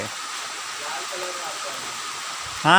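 Heavy rain falls steadily as a dense, even hiss throughout, and a voice breaks in right at the end.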